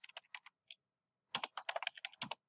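Typing on a computer keyboard, nearby and clear: a few scattered key taps, a short pause, then a quicker run of clicking keystrokes with no voice over them.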